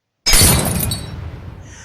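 A glass window shatters in a sudden loud crash, followed by a brief spray of tinkling shards that fades out over about a second and a half.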